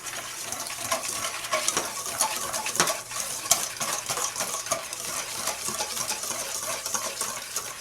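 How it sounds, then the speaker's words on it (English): A wire whisk mixes dry muffin ingredients in a bowl, making a steady, continuous scratchy whirring of rapid close strokes that runs without pause and with no voices. "So we're just going to take a wire whisk, mix this up really well."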